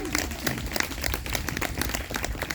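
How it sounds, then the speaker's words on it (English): A short burst of scattered hand clapping from an audience at a high school band awards ceremony, close and steady with individual claps audible throughout. "Round of applause for Jasmine."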